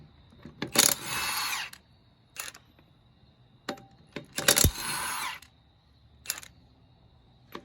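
A Milwaukee M18 Fuel half-inch cordless impact wrench fires in two loud, hammering bursts of about a second each on stuck lug nuts, with short trigger blips between them and a faint background hum.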